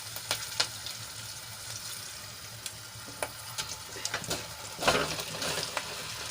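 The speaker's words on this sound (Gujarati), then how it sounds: "હવે આપણે એમાં મુઠિયા એડ કરી દઈશું" Bottle gourd muthiya drop into a hot oil tempering with a pinch of asafoetida, giving a soft continuous sizzle with scattered clinks and a louder burst of crackling near the end.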